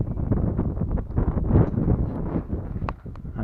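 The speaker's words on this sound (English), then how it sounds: "And it's gone windy. I'm trying to shield the wind off the camera." Gusty wind buffets the camera microphone on a coastal footpath near an island, a continuous low rumble that swells and drops throughout with no break.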